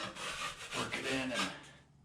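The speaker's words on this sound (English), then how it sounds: "just scrape off all the high stuff." A blade scrapes high spots of drywall joint compound off a wall patch, giving a close, steady rasping rub that stays fairly quiet and fades out at the end.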